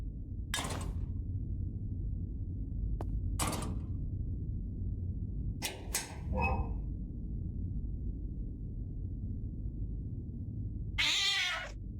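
A cat meows a few times in a dark horror video game, short scattered cries over a steady low droning ambience, with a longer, louder wail near the end.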